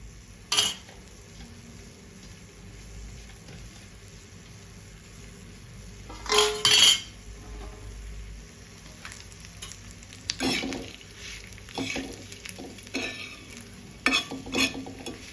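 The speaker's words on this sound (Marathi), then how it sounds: "तेल गरम झालंय तर आपण खोबरं टाकूया." Grated coconut fries in hot oil for a Kolhapuri masala, a steady sizzle broken by several loud scraping stirs of a spatula against the pan, close and without talk.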